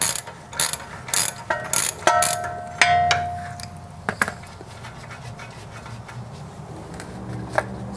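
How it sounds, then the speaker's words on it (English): A 17mm ratchet works loose a rusty castle nut on the tie rod end of a 1993 Mazda Miata, with a run of sharp pawl clicks in short bursts, close and clear, then a quieter stretch. "To remove the castle nut, you'll need a 17mm ratchet."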